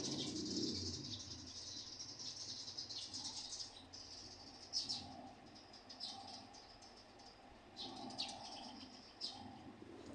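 Soft, low pigeon coos repeat faintly in a quiet room, mixed with a few light chirps and rustles.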